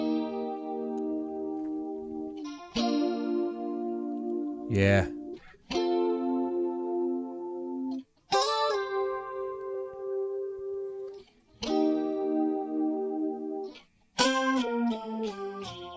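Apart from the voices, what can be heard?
electric guitar with stereo chorus effect, multitrack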